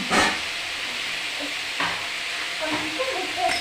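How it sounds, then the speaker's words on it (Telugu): Radish leaves fry in a pan with a steady close sizzle and hiss, broken by a few stirring scrapes and clinks. "ముల్లంగి ఆకు ఫ్రై."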